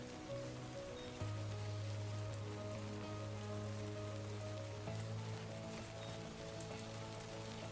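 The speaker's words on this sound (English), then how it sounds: "Damn, this rain's coming down." Heavy rain pours down steadily in the video game Death Stranding 2, a dense continuous hiss of falling water over a low droning game soundtrack with no talking.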